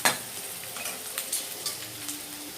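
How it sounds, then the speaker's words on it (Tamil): Green chillies frying in hot oil in a pan, a steady crackling sizzle with brief stirring scrapes, close and fairly quiet, no voices. "மிளகா பார்த்திங்கன்னா நல்லா பொரிஞ்சிச்சு"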